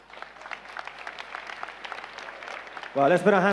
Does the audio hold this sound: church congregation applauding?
yes